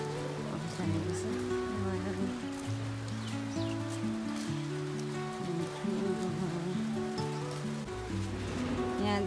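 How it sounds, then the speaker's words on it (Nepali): Rain falling on surfaces in a village in Salyan, Nepal, a steady patter of drops heard alongside sustained tonal sounds that may be music, continuing at an even level throughout. "पानी परिरहेको छ।"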